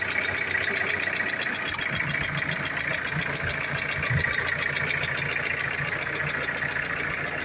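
A used car's engine idles steadily with the air conditioning on, an even, continuous hum and faint rattle, close by and unchanging throughout.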